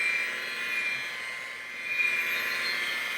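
A steady, high-pitched whir of a rotary polisher running at about 1200 RPM on a boat hull runs throughout, close by with a slight swell near the end.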